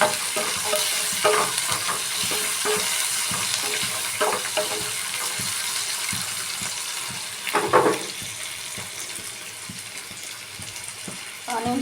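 Onions frying with salt in a pan for egg curry: a continuous soft sizzle with repeated stirring scrapes and clacks of a utensil, one louder burst of scraping midway.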